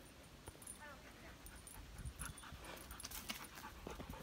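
A dog pants and whimpers while struggling on a hot Appalachian Trail hike, with soft, steady breathing and occasional high whines close by over outdoor background noise.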